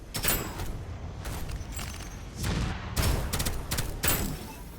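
Gunfire in the video game Deadzone: Rogue: several bursts of rapid shots, with one cluster early and a denser volley near the end, loud over steady game background noise.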